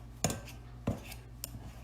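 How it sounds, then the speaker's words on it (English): A utensil scrapes and taps in a bowl while chilled butter is cut into dry ingredients, giving three soft clinks over a faint steady background hum, close and quiet with no talk. "we want to cut it and mix it around as we go"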